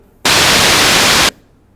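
A Roland GAIA SH-01 synthesizer plays a white noise waveform: a single loud, flat hiss starting abruptly, holding steady for about a second, then cutting off cleanly.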